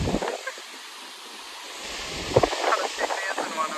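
Strong wind buffets the microphone on an outing near dam gates with heavy water flow, roaring in loud gusts that rise and fall, with people speaking under it.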